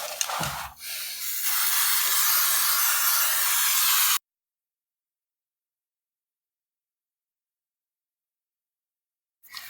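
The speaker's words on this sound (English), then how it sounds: "let's do one more spraying and we'll leave it for the night" A steady aerosol spray of chain lube onto a Kawasaki Vulcan S motorcycle chain hisses continuously for about four seconds close by, then cuts off into silence.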